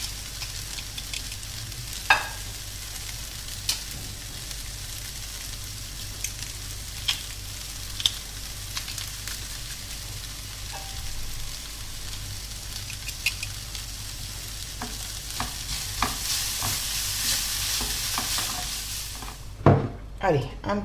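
Garlic and beef sizzling in an oiled pan on a gas stove, a steady low frying hiss throughout with occasional stirring clinks and scrapes, growing a little louder near the end.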